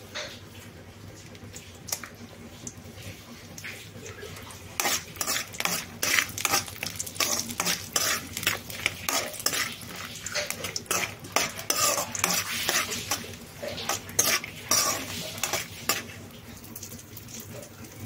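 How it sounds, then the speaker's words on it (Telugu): Almonds frying in oil while being stirred for semiya payasam, a long run of rapid scraping and clinking strokes of a spoon against the pan over a low sizzle, close up and wordless. "మనం తీసి పక్కన పెట్టుకున్న బాదం ఇందులో వేసి గోలించుకోవాలి"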